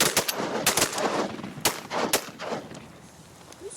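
Several sharp shotgun blasts during an Oklahoma bird hunt, fired in a quick outdoor volley of loud, cracking bursts that trail off into open-air echo.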